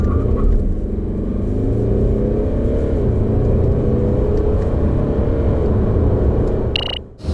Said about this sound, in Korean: 이 새로운 파워트레인이 적용된 C220D 가속 성능은 어떤지 한번 확인해 볼까요?